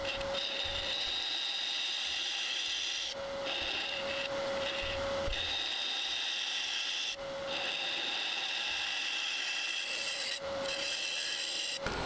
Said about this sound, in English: Here I'm just using my spindle gouge to hollow out the interior of the top of the